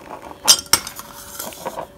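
A small glass jar packed with rosemary is tapped, giving two sharp clinks close up followed by faint softer knocks, with no voices.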